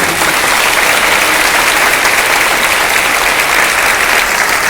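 Loud, sustained applause from a church congregation fills the space for nearly five seconds, a dense, steady wash of clapping with no pauses.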